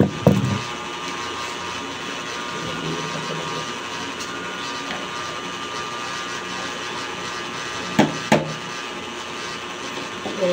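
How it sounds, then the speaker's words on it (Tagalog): A helicopter drones steadily overhead as a constant loud engine roar, with a few sharp knocks and bumps nearby. "Helicopter, helicopter."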